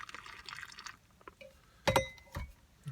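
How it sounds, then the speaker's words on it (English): Water poured into an MRE ration heater bag up to its fill line, for a Canadian IMP ration's lamb and vegetable stew: a brief close liquid splash and trickle with a couple of sharper sloshes, alone and fairly quiet. "Add our water to the fill line on this one."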